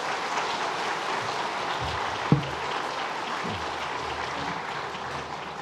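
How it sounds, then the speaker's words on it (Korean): A church congregation applauds after an infant baptism during Advent worship, giving steady, moderately loud clapping that fills the room evenly, with one sharp knock near the middle and no talking over it. "여러분 따뜻한 마음으로 우리 박수하겠습니다"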